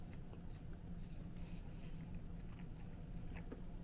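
Close, quiet biting and chewing of a crunchy Great Value Spicy Sicilian Style pizza with banana peppers, a steady run of small crackling crunches and mouth sounds with no talking.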